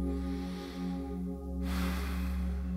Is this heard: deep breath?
yes